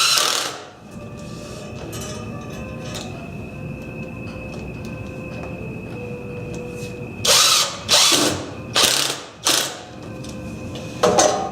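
A power drill drives screws into a homemade belt sander under construction. A steady mechanical hum runs first, then several short, loud bursts follow in quick succession near the end.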